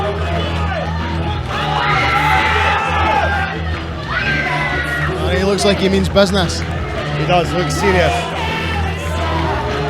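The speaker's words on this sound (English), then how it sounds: "Crowd are getting a bit fiery now" Boxing crowd at a fight night cheering, shouting and whooping steadily through the clip, a dense roar of voices under two commentators talking close up.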